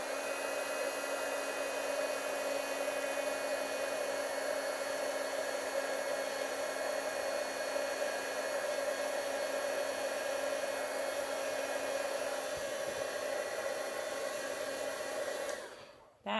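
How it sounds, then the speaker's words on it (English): A heat tool blows hot air to dry paint, a steady, even electric whine and rush like a hair dryer that runs unbroken for about sixteen seconds before switching off at the end. "I'm going to dry this with my heat tool just for a second"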